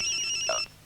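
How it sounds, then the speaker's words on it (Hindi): A telephone rings indoors during a scene in a Hindi horror film, giving a brief electronic ringtone with steady warbling tones that stop abruptly, heard alone with no talk. "देख किसका फोन है।"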